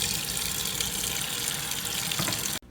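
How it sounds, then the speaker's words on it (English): Running tap water pours steadily as a Dyson DC-59 Motorhead vacuum filter is rinsed in a sink, a close, continuous splashing rush that cuts off abruptly near the end. "the water is starting to come out fairly clean now"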